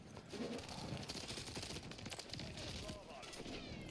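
Rapid bursts of automatic hip-fire gunshots from Call of Duty MW3 multiplayer on a small map, dense and continuous, crackling over busy in-game battle noise.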